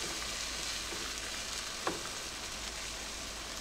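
Eggs for fried rice sizzling steadily in a hot pan, a constant soft frying hiss with a faint scrape partway through, no voices.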